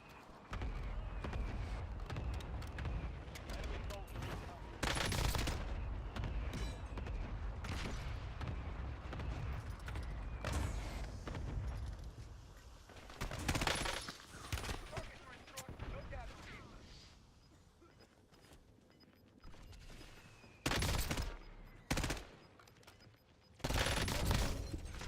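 Sentry gun in Call of Duty Warzone firing loud, close bursts of automatic gunfire in repeated volleys separated by short lulls, with heavy booms and battle noise filling the background.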